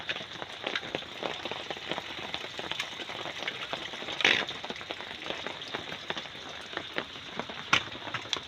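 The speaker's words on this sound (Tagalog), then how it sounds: "Umuulan na dito sa amin." Rain falls steadily, a dense close patter of drops striking surfaces with scattered sharper splats and a brief louder burst partway through, and no voices.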